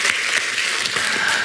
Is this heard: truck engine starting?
no